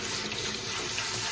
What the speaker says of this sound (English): you got to rinse it first